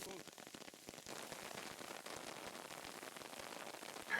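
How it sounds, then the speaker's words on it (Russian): Steady rain patters on a hard surface, with dense scattered drops forming a continuous hiss throughout. "Дождь никак не заканчивается"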